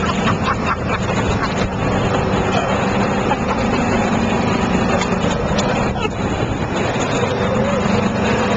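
A motorboat engine runs steadily off Isla Mujeres, with loud wind buffeting the microphone in a dense, unbroken roar and no clear rise in pitch.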